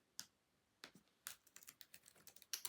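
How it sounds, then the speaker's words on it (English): Close, quiet clicking of a computer keyboard while notes are typed, starting with a few separate keystrokes and then a quick run of taps, with no talking. "I'm just typing notes here."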